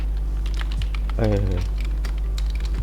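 Keys tapped on a computer keyboard, including tab and enter presses, while formatting a formal letter in a word processor; a few light clicks sit under a steady low hum and a spoken voice.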